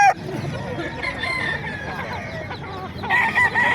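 Roosters crow and hens cluck at the Bocaue tyangge chicken market, with several crows overlapping close by amid general crowd noise.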